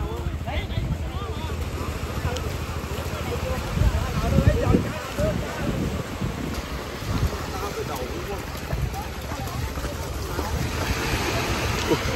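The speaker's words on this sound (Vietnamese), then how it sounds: "Sóng biển đánh vào rồi." Sea waves wash and break against the shore at a fishing wharf in La Gàn, Tuy Phong, Bình Thuận, a continuous surging rush with wind buffeting the microphone and people talking nearby.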